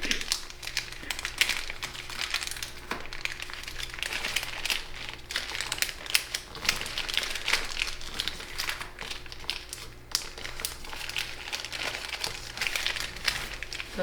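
Origami paper crinkles and rustles continuously at close range as layered creases are folded by hand, with soft, irregular crackles and no talking.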